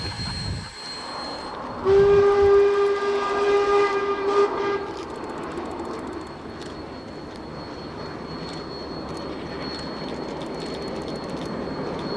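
A loud steam whistle blasts for a few seconds, then steam locomotive F 163 rumbles and chuffs past steadily under constant noise, near the Manawatu River Bridge in the Manawatu Gorge, New Zealand.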